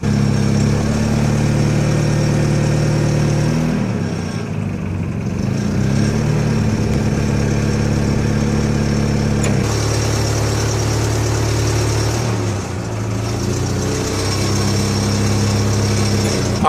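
A forklift engine runs loud and close, with steady revving that rises and falls as the throttle is worked while the control lever moves the mast, and a brief dip in pitch partway through.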